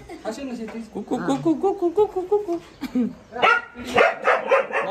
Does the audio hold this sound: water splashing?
no